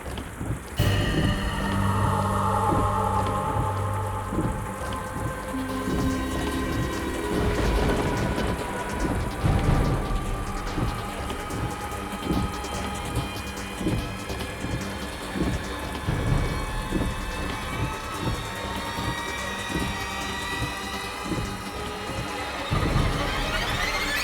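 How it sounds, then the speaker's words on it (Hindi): Heavy rain pours in a dense, steady roar for the whole stretch, with low thunder rumbling and cracking through it, loud and close, with no voices. "इतनी तेज बारिश हो रही है"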